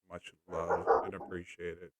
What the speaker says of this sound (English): So now that's my dog. He's there and barking.